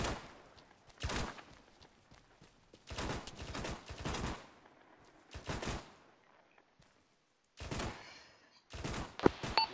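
Bursts of heavy automatic gunfire from an armored BTR vehicle in Arma 3, several separate volleys of rapid shots with quiet gaps between them, loud and nearby, with a final burst near the end.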